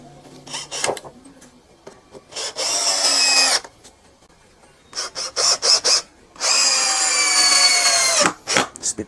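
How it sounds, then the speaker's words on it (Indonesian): A cordless HL 912 drill at speed 2 drives a 4 cm screw into a meranti wood beam, in several loud bursts of whirring with pauses between them, close by. "Kita akan coba ya penyakrupan. Ini balok meranti, ini masih speed 2."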